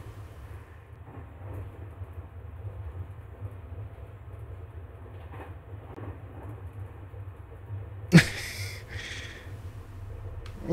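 A train in the Omori video game gives a continuous low rumble with faint rhythmic movement throughout. A single sharp burst cuts through partway along, then the steady drone resumes.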